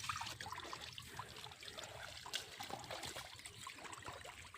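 Water trickles and gurgles steadily into a field channel on a farm, a soft, continuous flow heard close with no voices.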